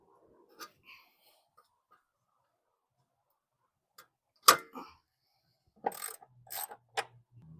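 A ratchet wrench loosens the sway bar end link nuts on a BMW Z3, giving sparse, close, short bursts of clicking separated by quiet pauses.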